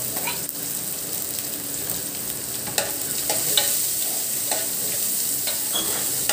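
Cumin seeds sizzle steadily in hot oil in a pan, a dense crackling hiss with scattered sharper pops and occasional stirring clicks, close and even throughout with no talking.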